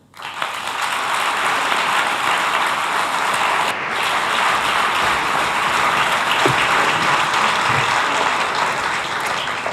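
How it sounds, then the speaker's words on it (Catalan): Loud, steady applause from a packed film festival audience welcoming a presenter, continuous clapping that briefly dips near the middle and then resumes at full strength, with no speech over it. "Donem la benvinguda amb un fort aplaudiment a Judit Colell."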